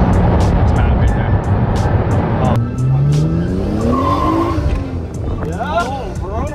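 Tires squeal loudly with a rising, wavering screech over a roaring Nissan Skyline R34 engine as it spins in first gear, close up, with voices talking over the noise.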